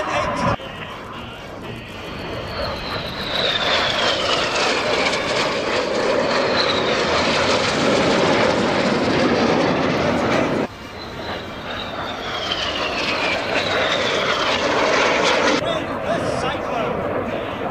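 Red Arrows jets roar loudly overhead during an air display at Fairford, a sustained swelling engine rush that dips briefly and builds again, with a commentator speaking over the noise.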